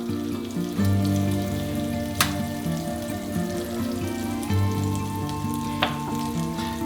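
Olive oil and butter sizzle in a pan as they are mixed, a continuous bubbling fry with a low hum beneath and a couple of bright scrapes or clinks of a utensil.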